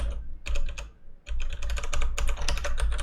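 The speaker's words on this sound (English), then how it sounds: "I guess I like typing" Fast typing on a computer keyboard while writing game code: dense bursts of clicking keys, close and loud, with a short pause near the start and no talking.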